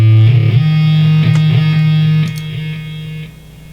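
Distorted guitar with scooped mids, the tone shaped only by bass and treble controls, sustaining loud and buzzy as a held chord with a few changes, then fading down near the end.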